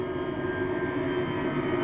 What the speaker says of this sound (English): And you can also hear the buzzsaw tones